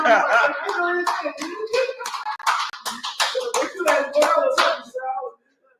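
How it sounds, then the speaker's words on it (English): A small class audience claps during an online law class, loose irregular handclaps mixed with voices talking and calling out, ending abruptly in silence. "I ain't gonna add it now that you done started clapping"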